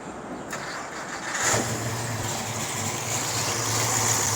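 A 1963 Ford Galaxie 500 with a stroked V8, chrome pulleys and an external fuel pump cranks briefly and catches, then settles into a steady, close idle with no one talking.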